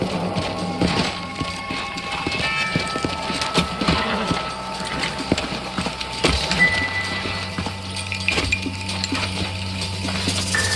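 Horse hooves in the video game Red Dead Redemption clip-clop steadily on hard ground amid a busy mix of clinks, rustles and background noise, with no clear talking.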